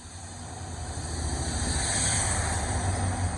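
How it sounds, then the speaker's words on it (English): A rail treatment train hauled by a class 66 locomotive passes through Tonbridge station, a steady broad rumble and hiss that swells slightly louder as it goes by, with no talking. "Here we have a freight train coming through."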